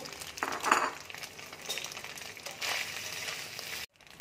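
Soya chunks frying in hot oil, a moderate crackling sizzle with a few stirring scrapes that cuts off abruptly near the end, heard up close with no one talking.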